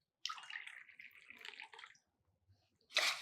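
Two cups of water poured for brewing herbal tea: a steady broadband splashing stream for about two seconds, a brief quiet, then a louder final burst of pouring, close and with no talk.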